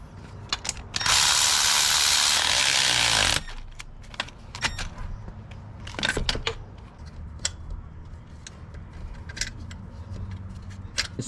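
Hand tools at work while a half shaft, axles and axle nut are fitted on a JDM EF sedan with a B20 VTEC. Rapid ratchet clicking repeats throughout, with a loud rushing burst near the start and scattered metallic clinks.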